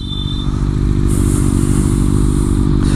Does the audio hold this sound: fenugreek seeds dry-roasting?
no